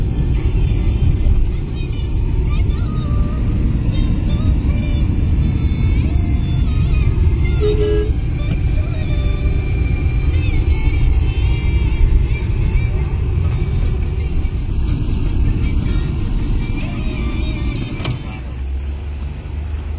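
A car drives along while picking up passengers bound for a private charter flight. The engine gives a steady, loud rumble throughout, with faint tones above it. The drone eases slightly near the end.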